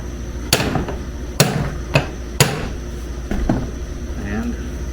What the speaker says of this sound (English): and hammer it the rest of the way down.